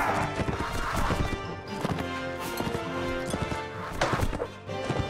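Horse hooves galloping in Mount & Blade: Warband, a rapid clip-clop rhythm running throughout, loud and close, mixed with game music and occasional whinnies and impacts.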